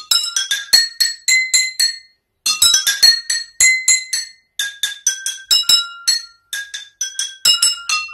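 Tuned drinking glasses struck one after another to play a melody, each strike giving a bright ringing note that fades quickly, in steady phrases with short pauses between, loud and close.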